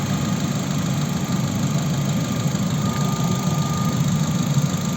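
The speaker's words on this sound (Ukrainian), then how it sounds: "Ось робота двигуна." A 2010 Opel Zafira facelift with a 1.8 MPI petrol engine and manual gearbox idles steadily and close by, giving a continuous even hum with a faint underlying vibration and no voices.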